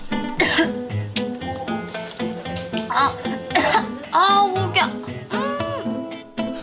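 Repeated coughing bursts break through talk and background music, with a couple of throat-clearing sounds mixed in.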